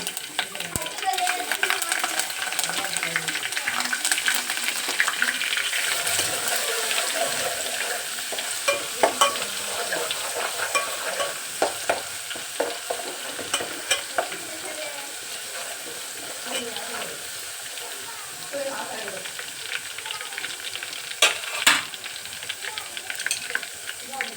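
Curry leaves and a paste sizzle and fry in a hot pan, with a steady crackle and occasional stirring scrapes throughout, while a voice talks faintly in the background.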